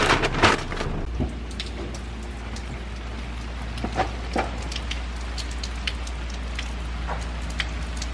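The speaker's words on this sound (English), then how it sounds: "Unfortunately, we did not beat the rain." Steady rain hissing on surfaces with scattered droplet patters and a low constant rumble, a few louder thumps near the start.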